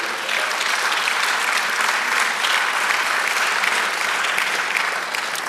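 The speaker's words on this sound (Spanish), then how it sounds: "Dale el aplauso." A church congregation applauds steadily and loudly throughout, a dense wash of clapping hands that holds at an even level from start to finish.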